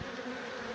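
Honey bees buzzing during the relocation of a beehive from a garage wall, a steady dense drone of many insects, faint and continuous with no voices.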